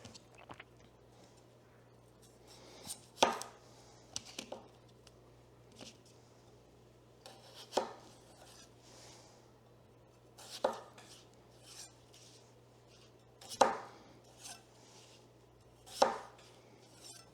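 Knife chopping potatoes on a cutting board in a home kitchen: sharp single chops and short bursts spaced a few seconds apart over a steady low hum, close and fairly clear, no talking.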